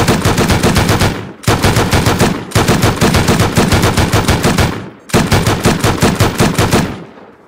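Automated turret in the Rust video game firing loud, rapid bursts of gunshots, four long volleys separated by brief pauses, close and alone with no talk.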